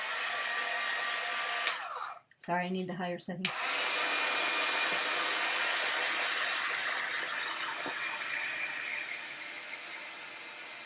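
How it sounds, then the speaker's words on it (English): Embossing heat gun blows a loud, steady roaring whoosh while drying ink on a card, briefly dropping as the setting is switched higher, then resuming strongly. Someone speaks briefly over it. "grab my my embossing gun. I keep calling it a heat gun."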